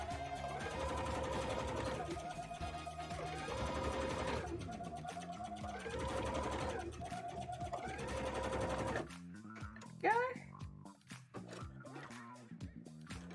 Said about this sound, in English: I'm just sewing in loads of eyes of Sauron into my work